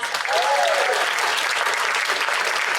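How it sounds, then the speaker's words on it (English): Live audience applause at a voice acting convention panel, a loud continuous burst of many hands clapping with a brief whistle-like tone early on, sustained for the whole stretch. "Give Nick another round of applause."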